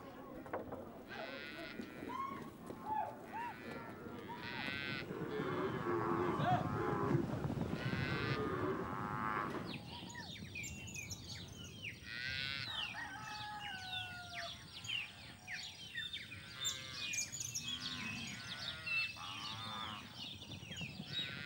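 Pantanal cattle moo repeatedly, with several long, loud calls in the first half, then roosters crowing and other farm birds chattering nearby amid a busy rural backdrop.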